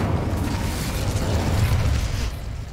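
A roaring fire spell erupts in Hogwarts Legacy, a continuous loud rumbling whoosh of flame that sustains for a few seconds before easing off.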